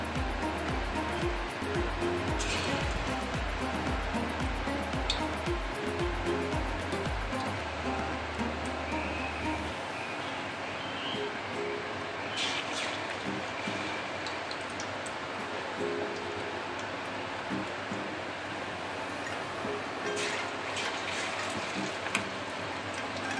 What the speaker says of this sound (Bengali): তেলটা আমার গরম হয়ে গেছে, আমি পনিরগুলো এক একটা করে কোট করে ছাড়ছি।